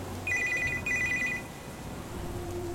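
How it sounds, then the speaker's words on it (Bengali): A mobile phone rings in two short, steady electronic bursts, clear but moderately quiet over a soft background murmur, in a Bengali village ghost story. "অনিমেষের মোবাইলটা বেজে চলেছে।"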